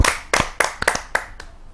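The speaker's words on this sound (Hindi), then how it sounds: "आप सबके एक जोरदार तालियों से।" An audience claps to welcome a poet onto the stage at an evening poetry recital, about six sharp, separate claps close by with short gaps between them.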